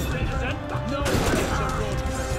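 Gunfire in the Assassin's Creed Unity video game, a short burst of shots and crashing impacts lasting a couple of seconds, loud and dense.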